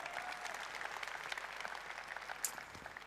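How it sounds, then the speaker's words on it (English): Applause from an audience of over 2,000 at a UAE real estate keynote event in Dubai, a steady dense clapping wash held at an even level throughout, with a brief brighter burst near the end. "a round of applause for everybody over here taking the time out"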